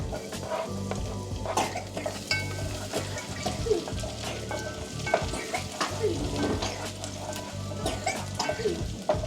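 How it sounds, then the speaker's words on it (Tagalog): Garlic sautéing in a home kitchen pan for arroz caldo, a steady close sizzle and frying crackle with occasional stirring scrapes running throughout, no talking. "Gisa na ko sa garlic o ahos."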